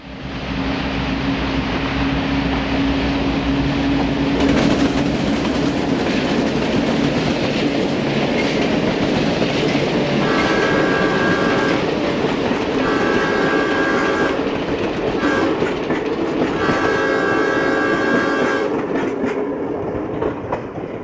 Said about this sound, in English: The train is approaching Romulus Tower and preparing to meet C&O Train 47.